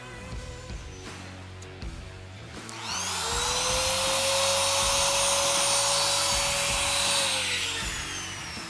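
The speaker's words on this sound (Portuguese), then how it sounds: "Eu posso vir com a própria tupia." A handheld router trims the edge of freshly glued formica laminate, starting with a loud, steady high-pitched whine that runs for several seconds, then winds down, after quieter handling noises at the start.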